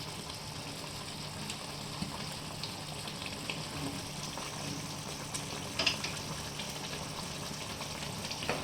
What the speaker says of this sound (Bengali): আমি বড়াগুলো ছেড়ে দিচ্ছি। সাইডে ফুটছে।